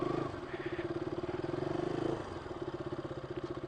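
A 2016 RC 200 motorcycle engine on a test ride, a steady pulsing mid-pitched chug close to the rider, with a small shift in tone partway through as gears change.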